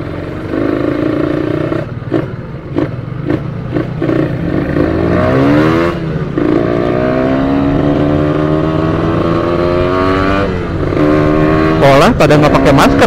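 Motorcycle engine running on racing two-stroke side oil during a road test, revving up and down repeatedly with rising and falling pitch sweeps, loud and close, with a rider talking over it.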